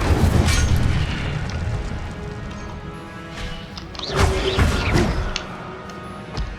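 A fire spell crackles and bursts in the Hogwarts Legacy game, with booming impacts and whooshing blasts up front, then a second loud flare-up of combat effects a few seconds later.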